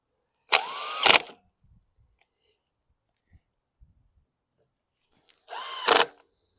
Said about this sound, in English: I already have the 7mm socket on my drill.